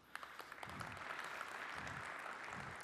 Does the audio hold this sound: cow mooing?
no